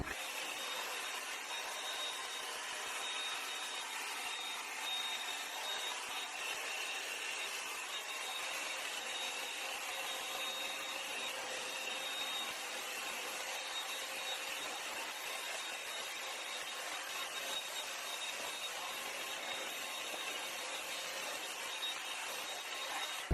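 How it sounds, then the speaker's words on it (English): A hair dryer blows steadily on hair during styling, a continuous airy whoosh that holds at an even, moderate level throughout with no talking. "Okay, so I'm done blow drying it."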